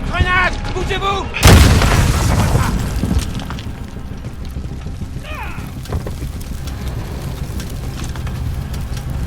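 Grenade explosion in the video game Call of Duty Modern Warfare: a heavy close boom erupts and rumbles away into a lingering roar, with shouted voices before and after it.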